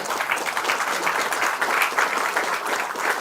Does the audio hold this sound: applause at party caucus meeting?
yes